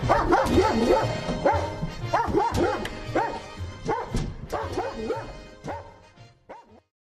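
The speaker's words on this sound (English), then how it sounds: "Anyone in the building, speak to me now or I'll send the dog." A police K9 dog barks repeatedly during a building search, with loud, close, rapid barks and yips, some whimpering, tapering off toward the end, with no talk.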